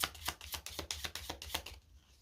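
Tarot cards being shuffled by hand in a quick run of about ten crisp riffling bursts, close and fairly quiet, alone with no talking and fading out at the end.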